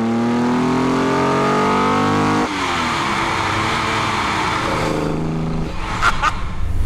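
A Holden Torana engine revs hard and loud, its pitch climbing steadily, then dropping sharply and building again in a second rising surge, with a few faint sharp clicks near the end.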